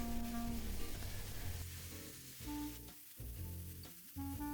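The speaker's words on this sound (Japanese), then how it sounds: "ひき肉はしっかり熱したフライパンで焼き付けます" Minced meat sizzles loudly in a hot frying pan, a dense continuous crackle with brief dips as it is moved around.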